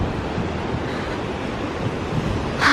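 Ocean waves wash steadily along the shore of Jeddah New Corniche in Saudi Arabia, a constant broad roar of surf mixed with wind buffeting the microphone, a gust swelling at the end.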